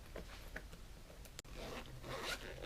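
A zipper runs around a knitting needle case as it is unzipped, a close, continuous rasping pull with a brief pause midway, with no talk over it.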